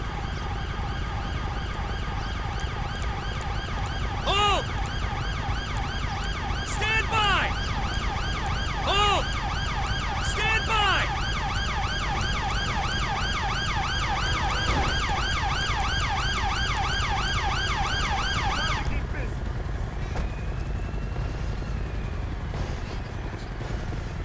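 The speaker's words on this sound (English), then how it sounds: "the ambulance is coming" An ambulance siren wails in GTA 5 with a UK police mod, its rising and falling tones sounding loud and close over a constant engine and rotor rumble before cutting out near the end, with someone talking over it.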